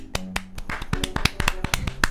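Several sharp hand claps from a group of gamers syncing a recording, a quick irregular burst of loud close slaps with faint talk in the background.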